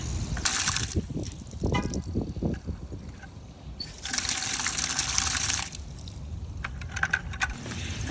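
Water splashes and trickles in bursts as it is poured into reclaimed clay, with a longer rushing pour in the middle, alongside soft handling noises and no talking.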